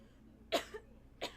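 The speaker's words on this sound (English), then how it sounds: "why did it get me coughing?" Two short, sharp coughs from a person a moment apart, close and fairly loud against a quiet background.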